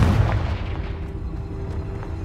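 A Confringo spell blast in Hogwarts Legacy lands as a loud, close booming burst and then fades into a rumbling decay, with no voices.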